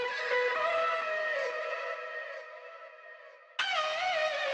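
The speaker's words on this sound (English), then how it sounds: "It's great to get like a speakerphone effect or something, or a little bit of grit" Vocal chops processed with a gritty CLA distortion effect in a remix: a bright, harmonically dense sustained vocal tone that fades briefly, then re-enters abruptly and loud, with no talking.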